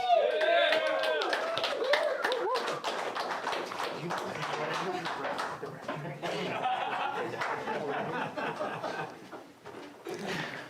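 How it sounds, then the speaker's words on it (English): Applause and cheering from an audience at a combat sports press conference, with claps and whoops continuing steadily under a mix of crowd voices and talk. "Round of applause."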